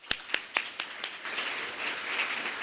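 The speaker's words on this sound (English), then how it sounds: "And again, warm round of applause." Conference audience applause at a sustainable AI event opening: a few separate loud claps come first, then the clapping swells into a dense, even wash that holds steady to the end.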